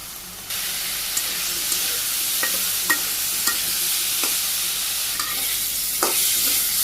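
Potato and pointed gourd stir-fried with dried chili powder and salt in a village kitchen, steady sizzling with repeated sharp spatula scrapes and taps against the pan.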